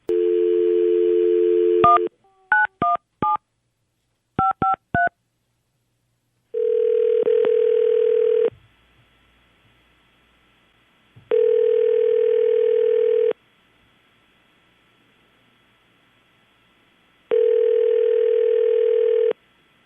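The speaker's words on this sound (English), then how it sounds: "we're going to make the phone call" Telephone dialing before a call: a burst of DTMF keypad tones, then a steady dial or ringback tone that sounds three times with long silent gaps, clear and close with no talking.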